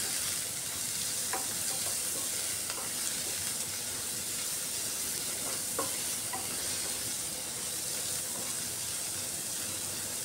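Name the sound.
chopped onions frying in oil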